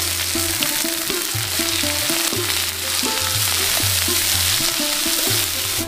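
Finely cut leafy greens fry in a pan with onion and garlic, a loud continuous sizzle broken by rhythmic stirring strokes of a spatula, close and without talk.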